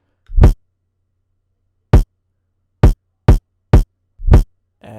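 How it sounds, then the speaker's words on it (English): Deep electronic kick drums from a hyperpop beat, each preceded by a swelling reversed kick that rushes into it, heard as a sparse series of six loud thumps with silence between them and no talking. "you make the reverse kick hit before the regular kick and it creates this effect"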